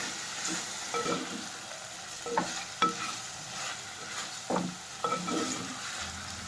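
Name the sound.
eggplant pieces frying and stirred in onion oil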